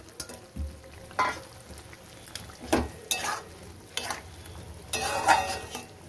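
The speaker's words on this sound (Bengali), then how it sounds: "যে জলটা ভালো করে ফুটে উঠেছে, এবার আমি চিকেনগুলো দিয়ে দেবো।" Chicken pieces tipped into a pot of boiling water for white garlic chicken, with several splashy clatters and a stirring, sizzling bubble around them, close and fairly loud, with no voices.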